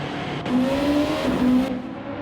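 A race car pulls out of the pit lane on soft tyres during a 24-hour Nürburgring race in a racing video game, its engine droning steadily with rising and falling pitch at moderate volume, with no talk over it.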